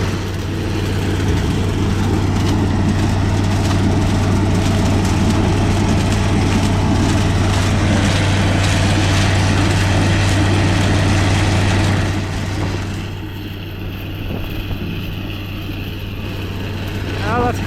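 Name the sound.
engine and exhaust of a New Holland 802A Unisystem corn harvester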